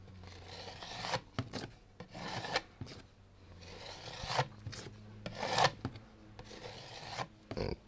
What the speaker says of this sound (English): scrape off some of this excess paint from around the outside edge as it goes